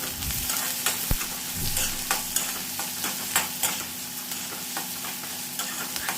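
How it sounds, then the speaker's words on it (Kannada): Chopped onions frying in oil in a pan, a steady close sizzle with occasional stirring scrapes and one sharp knock, continuous and fairly loud throughout. "ಈರುಳ್ಳಿನೂ ಎಲ್ಲ ಎಣ್ಣೆಯಲ್ಲಿ ಚೆನ್ನಾಗಿ ಫ್ರೈ ಆಗಬೇಕು, ಆ ರೀತಿ ಚೆನ್ನಾಗಿ ಫ್ರೈ ಮಾಡ್ಕೋಬೇಕು."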